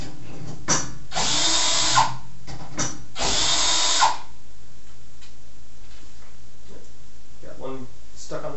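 A power drill fitted with a bit removes fasteners from a frame, whirring in two loud bursts of about a second each, followed by quieter handling noises and a person talking.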